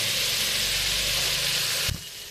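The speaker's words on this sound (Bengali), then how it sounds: "হ্যাঁ, কলমি শাক ভাজা হয়ে যাচ্ছে।" Water spinach (kalmi shak) fries in a hot pan with a continuous bright sizzle, then a sudden knock near the end after which the frying drops to a quieter hiss.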